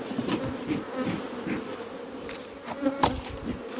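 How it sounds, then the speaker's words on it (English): Honey bees buzz around an open hive during feeding and splitting work, a close, fluctuating drone of many wings with individual bees passing near, no talk. "Look at bees."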